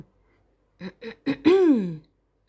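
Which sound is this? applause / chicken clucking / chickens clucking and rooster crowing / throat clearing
throat clearing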